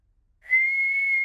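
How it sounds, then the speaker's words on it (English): A cartoon pig character whistles a single clear, steady tone after a brief silence, the note holding evenly for under a second, close and alone. "George can whistle."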